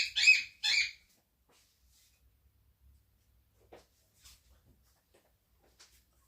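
A pet bird gives two loud, harsh screams close by in quick succession, followed by near silence with only faint small knocks and shuffles.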